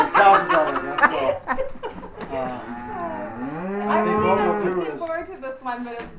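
A cow moos loudly and close by during artificial insemination on a farm, a long drawn-out bellow in the middle of the clip, with laughter and chuckling from people nearby before and after.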